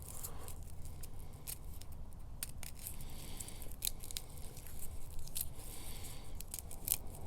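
A small blade snips and crunches through the top of a store-bought garlic clove, just above the stem, with several soft, close cutting sounds over a steady low background and no talking.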